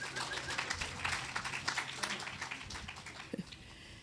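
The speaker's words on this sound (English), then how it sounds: "A little applause is in order, I think." Applause from a congregation at a church service, a brief, fairly quiet patter of clapping spread through the room over a few seconds.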